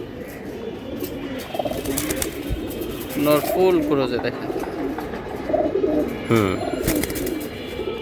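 Silver pigeons cooing close by in a loft, soft repeated throaty coos rising a few times over a steady background murmur, with someone talking over them.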